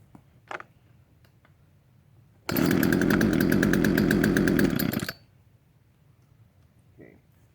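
A gasoline chainsaw with a choke roars into life after a few quiet handling noises, runs loud and close for about two and a half seconds, then cuts out abruptly, followed by faint scuffs.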